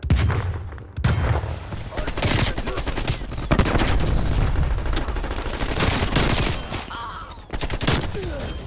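Rapid AK-47 bursts in a Call of Duty Cold War multiplayer match, loud and close, firing in repeated volleys with short gaps between them and other gunfire in the background.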